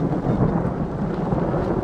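Low, rolling thunder rumbles steadily under a wash of rain noise, fairly loud and continuous for a couple of seconds, heard during a storm.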